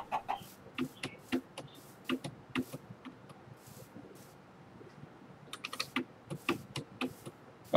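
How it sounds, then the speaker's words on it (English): Chickens clucking in a Minecraft-style survival game, short scattered clucks and pecking clicks that come in bursts with quiet gaps between them, and no talk over them. "we got a lot of chickens here"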